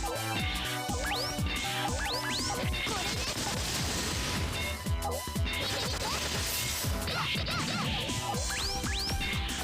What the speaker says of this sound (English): I do like the new smashing sound with the crash gem